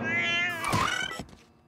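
A cartoon cat in an animated French family series gives a single drawn-out, wavering meow that rises and bends in pitch, close and clear, ending in a soft thump.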